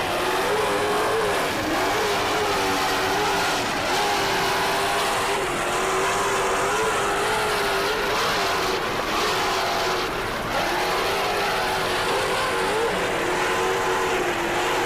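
Offshore racing powerboats in the modified class at a 1987 Key West race roar continuously, their engines droning loud and steady with a wavering pitch as they run past together, with no talking.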